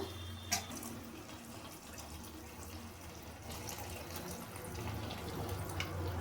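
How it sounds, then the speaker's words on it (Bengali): Water pours from a tap or vessel into a pot of bottle gourd leaf curry, a faint steady splashing stream with a small clink near the start. "এবার আমি পরিমাণ মতো জল দিয়ে দেবো"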